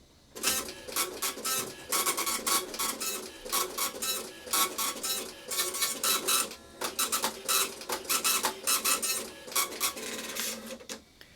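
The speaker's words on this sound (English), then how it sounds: "this is where it will print out on the kitchen printer" A receipt printer chatters in rapid bursts of high, buzzing dot-matrix printing, steady and close for about ten seconds before stopping.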